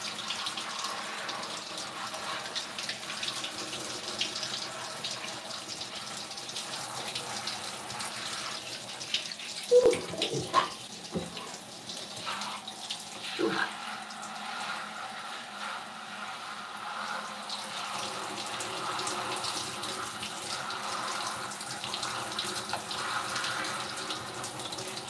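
Shower water runs steadily while conditioner is rinsed from natural hair, a soft continuous spray with a few brief splashes and knocks partway through.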